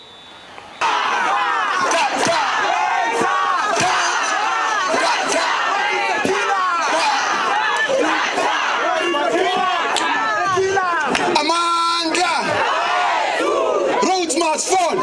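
A large crowd of protesters shouting and chanting together, loud and continuous from start to end, with clapping and raised voices merging into a dense roar.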